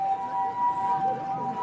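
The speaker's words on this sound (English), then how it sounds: "There's a siren." A siren wails in the distance in Kyoto at sunset, a steady tone rising and falling faintly over soft outdoor ambience, with no voices.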